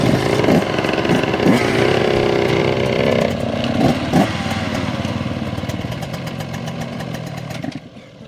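A motorcycle is ridden nearby, its engine running with a steady, loud drone and a few brief revs before the sound fades near the end.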